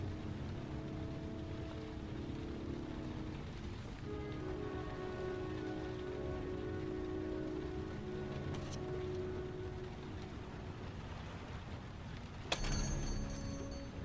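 Rain falling in the video game Heavy Rain, a continuous close hiss of drops on hard surfaces that holds steady throughout, with a brief sharp clatter near the end.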